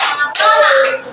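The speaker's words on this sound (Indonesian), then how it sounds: "Tepuk tangan." Brief burst of hand clapping from a classroom audience after a group presentation, dense and close, lasting about a second with no talk over it.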